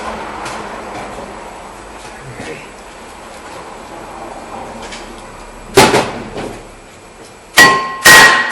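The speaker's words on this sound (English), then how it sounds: "let me grab a hammer and we're going to give that a couple of taps" Hammer striking a rusty rear brake rotor on a 2008 Nissan Altima to knock it loose, a few sharp metallic blows near the end after a quiet stretch.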